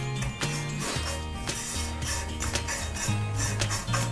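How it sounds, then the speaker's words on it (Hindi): A metal spoon keeps stirring vermicelli (sevaiyan) as it roasts and browns in a dry pan, giving steady scraping and light clinks close up with no voices. "उसमें लगातार चम्मच चलाते जाएं ताकि इक्वली कलर ब्राउन हो"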